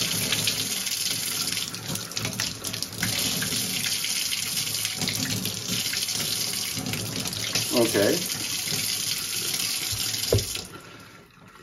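Warm tap water running steadily into a sink while chalk paint brushes are rinsed, close and fairly loud with splashing changes, a brief spoken word partway through, then the flow cuts off near the end.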